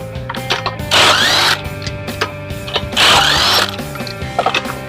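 A power tool spins wheel bolts off a 2010 Hyundai Elantra Touring hatchback to remove the tire, with two loud, close, whirring bursts about two seconds apart and clicks and clanks in between.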